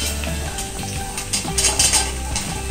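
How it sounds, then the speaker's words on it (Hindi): Onion and spiny gourd fry in a pan, giving a soft sizzle punctuated by clinks and scrapes of a utensil against the metal, loudest near the end. "हल्का सा प्याज भुन चुका है और हमने इसमें परोड़े डाल दिए हैं"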